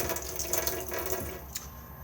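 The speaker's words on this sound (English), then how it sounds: "get water out of the taps" Water runs from a tap in a Coachman VIP 675 caravan, a steady, close hiss of flowing water into a sink with faint splashing throughout.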